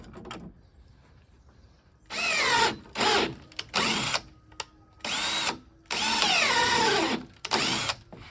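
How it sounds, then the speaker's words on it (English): A power drill bores a hole for a door latch in a DIY entry door frame for a custom Ford Maverick; several loud, close bursts of whining drilling, each a second or so long, are separated by short pauses. "I need to drill a hole so that can catch on to something."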